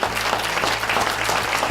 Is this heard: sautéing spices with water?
no